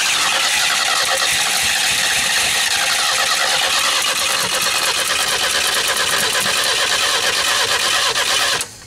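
A petrol engine that had been flooded with fuel fires up and runs loud and steady at a fast idle close by, cutting off abruptly at the end, with no talk over it.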